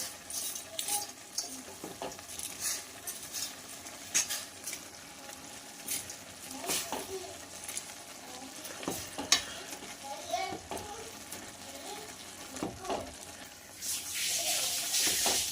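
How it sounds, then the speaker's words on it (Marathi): Vermicelli being stirred in a pan for a nutritious homemade Maggi-style dish, with steady scraping strokes over a soft continuous sizzle, fairly close and moderately loud, and no voices. "शेवया घातल्यानंतर याला छानपैकी असं मिक्स करून घ्यायचं आहे"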